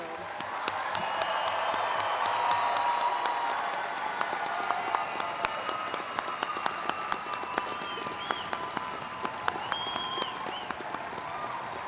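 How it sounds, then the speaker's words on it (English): Commencement audience at a community college graduation applauding the class of 2022, a sustained round of clapping with some cheering that gradually thins into scattered individual claps. "Audience, one more round of applause for our class of 2022."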